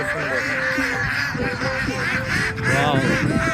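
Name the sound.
farm ducks quacking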